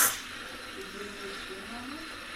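Steam hisses steadily from an old silver espresso machine with freshly replaced gaskets, a sharp burst at the start settling into a continuous close, moderately loud hiss.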